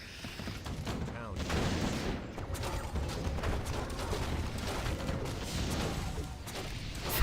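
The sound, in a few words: mortar teams firing in Warcraft 3 video game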